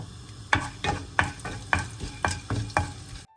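Fennel seeds and pepper frying in hot oil in a pan, a soft sizzle punctuated by six evenly spaced stirring scrapes, then an abrupt cut to silence.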